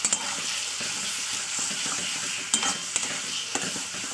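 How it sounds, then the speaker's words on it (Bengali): A spatula stirs a flat bean paste around in hot oil for a mashed bean dish, with a steady broadband sizzle throughout and several sharp scrapes and clicks of the metal against the pan. "এবার আমি ভালো করে খুন্তির সাহায্যে তেলের সঙ্গে করে মিশিয়ে দেবো"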